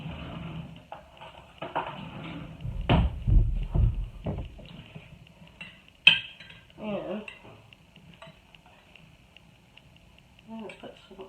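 A spoon scoops marinara sauce and spreads it over a thick-crust pizza dough in a cast iron pan. Intermittent clinks and scraping, with a person talking between the sounds.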